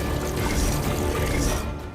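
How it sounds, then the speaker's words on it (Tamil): Ganges holy water is poured into a vessel of water, giving a dense, steady splashing rush that stays loud throughout and thins out slightly near the end. "முதல்ல தண்ணில கங்கா ஜலத்தை கலந்தாங்க."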